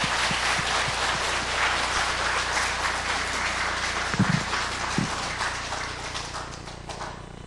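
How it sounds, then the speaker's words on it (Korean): A church congregation applauds the choir after a Christmas service anthem, loud sustained clapping filling the hall in a dense, hissing roar that tapers slightly toward the close. "참 수고했습니다 하고 힘찬 격려 박수 한번."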